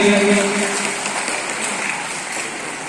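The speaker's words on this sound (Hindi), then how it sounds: "इनके लिए जोरदार तालियां बजाइए।" A school audience at an Independence Day function applauds in a loud, dense patter that fades slightly toward the end, with a brief tonal voice near the start.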